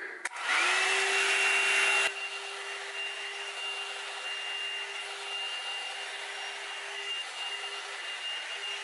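A hot air brush hair dryer on its highest setting starts with a loud rush of air, then settles into a steady whirring hum with a high whine that continues to the end.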